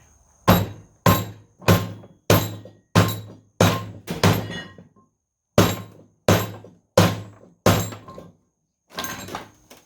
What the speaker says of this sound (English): Set this one back on the vise and knock it in with a hammer.